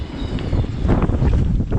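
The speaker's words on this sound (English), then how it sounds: "It's windy. I don't know if you can even hear me." Steady, heavy wind buffeting the microphone outdoors by a boat's diesel marine engine, a constant low roar with gusty swells and no voices.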